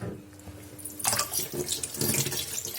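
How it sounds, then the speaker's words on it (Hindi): Tap water starts running into a sink partway through as something is washed under it, a loud splashing gush with uneven bursts, no talking. "अभी मैं नॉर्मल पानी से भी धो देती हूँ।"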